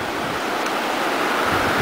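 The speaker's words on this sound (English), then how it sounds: "Here you can see the river moving much quicker." Near Bovec, a fast-flowing river rushes in a steady, loud, broadband roar of churning water, continuous and close without any voices.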